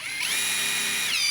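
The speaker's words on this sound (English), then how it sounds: "So we're going to screw these edges down, and then we're going to screw down" A power drill drives screws into Eva-Last Apex Plus composite deck boards, fastening the board edges in one steady high whine that runs alone for just over a second.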